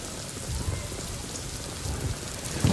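Heavy monsoon rain pours down in Navi Mumbai, a dense, steady wash of loud hiss with low rumbling gusts, continuous and close, with no voices.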